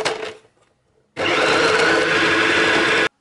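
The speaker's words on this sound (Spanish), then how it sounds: "Y ahora trituramos todo junto." A brief start-and-stop clatter comes first, then a blender grinds mantecado dough of pitted dates, cashew butter, tajín and anise seed in a loud, steady, close roar for about two seconds before it cuts off abruptly.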